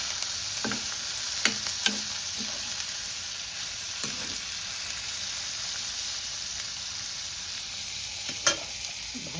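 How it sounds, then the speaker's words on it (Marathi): Wild drumstick greens frying in a little oil with coconut in a pan, a steady close sizzle throughout with several soft scraping stirs of a spoon. "थोडासा ढवळून घेता."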